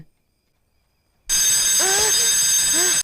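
A loud electronic alarm suddenly starts ringing after a second of silence and continues steadily, with a voice briefly heard beneath it.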